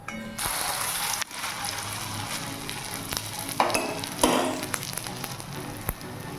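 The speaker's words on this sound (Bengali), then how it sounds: "এরকম হালকা আছে লাল লাল করে ভেজে নিতে হবে তাহলে ঠিকঠাক টেস্ট আসবে" Poppy seed fritters (posto bora) frying in hot oil in a home kitchen give a steady, close, dense sizzle with scattered crackles and a few brief utensil clicks, and no one speaks.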